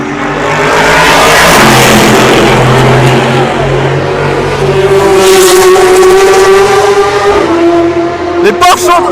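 Race cars at the 24 Hours of Le Mans, including the No. 5 Toyota, roar past loudly with shifting engine pitch and gear changes, nearby and continuous, with faint commentary-like voices mixed in.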